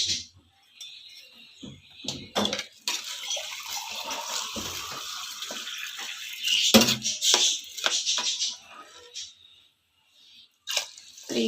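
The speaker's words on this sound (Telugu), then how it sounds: "ఫస్ట్ గ్లాస్ వాటర్ వేస్తున్నాను." Water is poured from a glass into a pressure cooker holding green gram, giving a steady splashing gush in several pours with short breaks between them, close by, over a faint voice.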